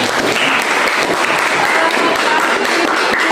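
Students applaud in a school classroom, a short burst of dense, loud clapping that fills the room evenly from start to end.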